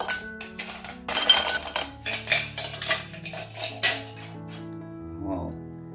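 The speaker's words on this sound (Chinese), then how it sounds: "接着我们放一些冰块" Ice cubes dropped into a glass while mixing a coriander and Yakult drink, a quick run of bright clinks and clatters, close and crisp, then fading to ringing and quiet.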